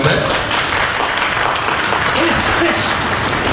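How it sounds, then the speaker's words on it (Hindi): Audience applause for the guests at a Hindi book launch and panel discussion, a steady dense wash of many hands clapping throughout, with a faint voice underneath. "हमारे अतिथिगण का कृपया ताली बजती रहना चाहिए,"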